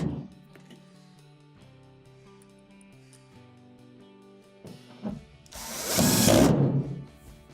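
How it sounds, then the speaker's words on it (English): A power driver buzzes in short bursts, then runs in a loud sustained whir as it drives a screw into the back panel of an Amana dryer. "Get one started and then finish it off with your driver"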